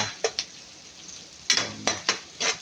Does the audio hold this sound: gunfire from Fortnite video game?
no